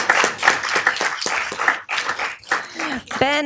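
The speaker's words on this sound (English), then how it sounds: "Please, a round of applause for Ben." People at a city council meeting give a round of applause during a proclamation presentation. Fairly close clapping rises and falls alongside voices, and a person speaks near the end.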